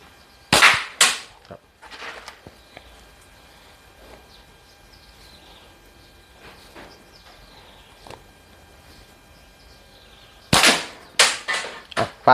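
A slingshot firing clay balls during practice, with sharp snapping shots in quick clusters at the start and again near the end, separated by a quiet stretch of faint outdoor sounds.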